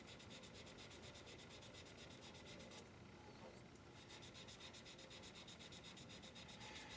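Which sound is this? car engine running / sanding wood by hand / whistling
sanding wood by hand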